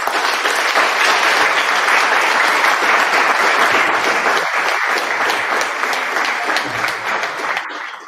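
A crowd greets a guest at a live show with sustained, loud, dense applause that continues steadily for several seconds before beginning to thin out at the end.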